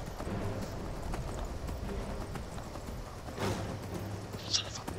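Hooves clip-clop in a steady trotting rhythm as a horse moves through the Skyrim game world, faint and close, under low background game ambience.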